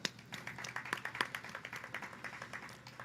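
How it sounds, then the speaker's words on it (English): Audience applause at a mural lighting ceremony, fairly faint, made up of distinct individual claps in a loose, steady rhythm from a small group rather than a dense roar. "I think they deserve a round of applause"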